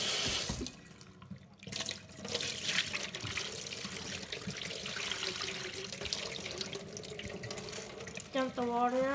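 Water running and sloshing while a betta fish tank is cleaned, a steady gush and splash near the sink that continues throughout, ending with a brief squeak.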